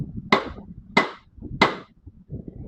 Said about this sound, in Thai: ใช้ค้อนยาง